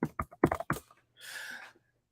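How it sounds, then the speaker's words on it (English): Someone types on a computer keyboard up close, with a quick run of crisp key taps followed by a softer, brief rustling burst, then quiet. "Sorry about the typing in your ear."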